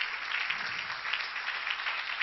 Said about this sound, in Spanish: Denle un aplauso a Cristo, que Él se lo merece.